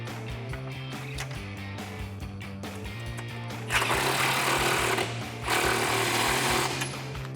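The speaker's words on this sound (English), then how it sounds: "you're going to use an 18mm deep socket to tighten down the larger nut" An 18mm deep socket tightens a large nut on F150 side step bar mounting hardware, giving a steady buzzing ratchet or impact-driver whir that grows louder and harsher in two bursts toward the end, with no talking.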